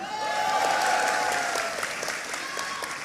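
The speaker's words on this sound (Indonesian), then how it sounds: "Tepuk tangan." Crowd applause at a political gathering in Pekanbaru, Riau, where students, Gojek drivers, workers and pupils have assembled: a broad, even roar of clapping from a large audience, steady and moderately distant, with a faint tonal whine above it.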